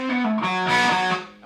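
Distorted electric guitar plays a short rock/blues lick, a few sustained bent and sliding notes with a gritty, saturated tone, loud and close, fading at the end.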